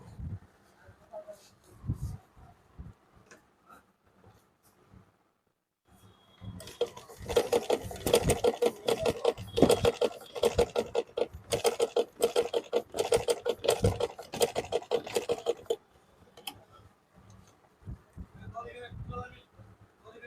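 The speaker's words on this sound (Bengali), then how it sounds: "এই হলো সেলাই।" A sewing machine runs a test seam on cloth, a fast steady mechanical stitching chatter lasting several seconds between short pauses, with brief handling noises before and after and no talk.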